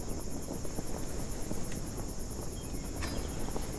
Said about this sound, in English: we're gonna have crickets in our ears for a bit